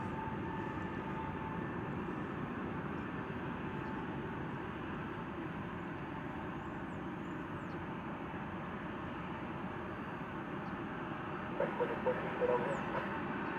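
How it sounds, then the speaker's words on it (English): A Japan Airlines Boeing 777 inbound from Tokyo arriving at Dallas Fort Worth airport, a low steady distant jet rumble that holds evenly, with a few small clicks and knocks late on. "this Japan Airlines triple that's coming in from Tokyo"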